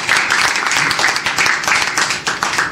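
Guests at a book launch gathering in a small café give a round of applause, with brisk, close clapping sustained throughout.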